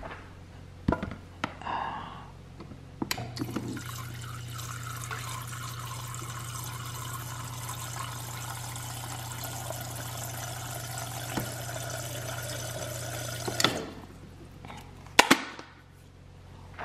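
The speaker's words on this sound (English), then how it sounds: "while my water is boiling" An electric kettle heats water, a steady rushing hum and hiss that builds for about ten seconds, with clicks and clatter of handling at the start and the switch cutting off near the end.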